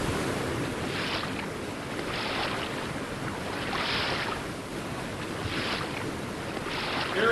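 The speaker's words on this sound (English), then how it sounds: "Some yards below, I could hear, as I clung to the damp wall, the sluggish churning of the water." Sluggish churning of sewer water below a damp wall in an audio drama, a steady broadband wash with slow surging swells, continuous and moderately loud with no voices.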